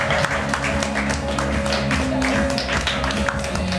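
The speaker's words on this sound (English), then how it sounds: "Please give a big round of applause to Bryce McKeon." A comedy club audience applauds a comedian coming on stage, a dense, steady wash of clapping throughout.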